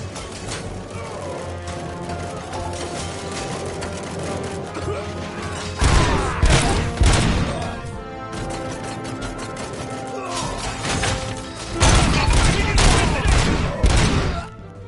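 Gunfire rattles through a RoboCop Rogue City shootout in rapid, loud bursts over a constant game soundscape, with mechanical clanks and thuds, and heavier volleys swelling partway through and again near the end.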